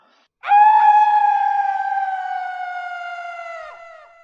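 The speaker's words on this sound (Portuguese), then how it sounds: "Quando estava quase roxo, deu um grito cavernoso." A long, sustained scream from an angry dwarf, one harmonic-rich tone that starts abruptly, holds loud for over three seconds, then slowly fades and drops slightly in pitch.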